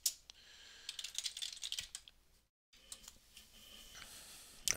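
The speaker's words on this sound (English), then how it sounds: "I've been researching how to get rid of the keyboard noises" Rapid clicky typing on a computer keyboard in bursts of keystrokes, close and fairly loud, broken by a brief silent gap before more tapping resumes, with no talking.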